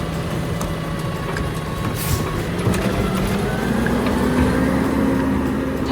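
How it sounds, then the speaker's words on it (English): A real garbage truck lifts a bin with its arm, a loud, continuous diesel engine drone and rising hydraulic whine heard nearby in the street, steady throughout. "Time for some live garbage truck action."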